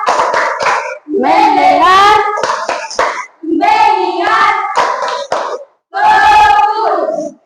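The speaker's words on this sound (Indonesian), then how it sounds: "Jadi kita memulai tepuk fokus." Children perform the 'tepuk fokus' clapping routine, chanting loudly together in bursts separated by short pauses. Crisp claps punctuate their voices, close and energetic.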